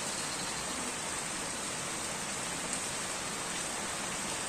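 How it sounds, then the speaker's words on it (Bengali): Steady, even rainfall of moderate strength on a tin roof, a continuous hiss with no voices or other sounds standing out. "বৃষ্টিটা খুব একটা তীব্র না, মোটামুটি বৃষ্টি হচ্ছে।"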